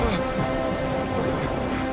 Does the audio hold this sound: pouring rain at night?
yes